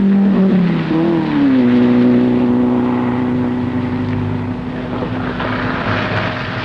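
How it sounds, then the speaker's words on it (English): A Renault rally car on the Monte Carlo Rally makes a loud engine sound whose pitch climbs, falls and settles into a steady drone. A faint rumble and other noise sit beneath it. "The Renault of Roland Charrière, one of 12 highly fancied French cars, which all came to grief, screeches on."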